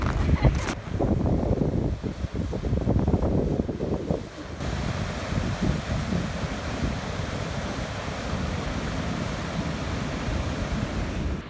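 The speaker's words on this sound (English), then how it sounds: "So we're at the Niagara Falls, and they almost look frozen" Niagara Falls roars in freezing winter weather, a steady broadband rush of falling water mixed with wind gusting across the microphone, heavier during the first four seconds, with no voices.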